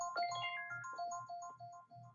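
A phone rings with a warbling electronic ringtone pattern, repeating tones over a low pulsing hum, moderately loud and close, with no voice over it.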